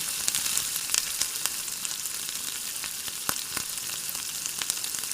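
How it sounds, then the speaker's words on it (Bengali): Steady, close crackling sizzle of eggs frying in hot oil in a pan, with scattered sharp pops and spatters throughout. "এবার একটা ফ্রাই প্যানে তেল গরম করে ডিমগুলো ভেজে নিচ্ছি"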